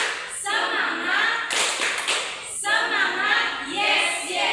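A classroom group performs the rhythmic Indonesian 'tepuk semangat' clapping chant as an ice-breaker, with sharp bursts of claps interleaved with loud chanted voices in repeating cycles.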